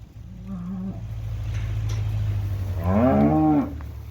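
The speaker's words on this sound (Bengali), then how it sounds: "আর এখানে দেখা যাচ্ছে আপনার টোটালে 3 গাড়িতে 44 পিস গরু আসছে" Cattle on a farm where a shipment of 44 cows has just arrived: a low engine-like rumble runs underneath, then one loud, close moo rises near the end, with no voices.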